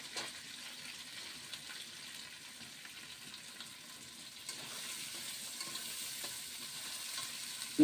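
Green chilies and onions frying in a pan give a steady, soft sizzle at moderate distance, with faint stirring scrapes and no voices, growing slightly busier toward the end.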